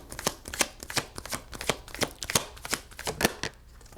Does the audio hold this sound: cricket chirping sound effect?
no